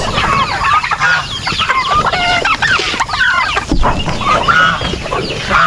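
A flock of turkeys gobbles and clucks continuously up close, loud overlapping calls with no pauses.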